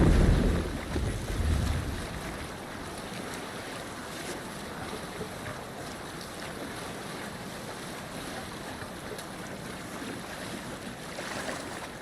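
Viking longship under sail on open sea in Assassin's Creed Valhalla, with a steady rush of waves and wind noise, loudest in the first two seconds then holding at an even wash throughout.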